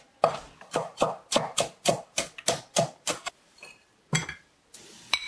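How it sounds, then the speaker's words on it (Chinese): A knife chops a green pepper into small pieces on a board, a quick run of about ten evenly spaced, crisp strikes, then a pause and a few scattered final cuts, close and clear. "准备一个青椒切成碎片"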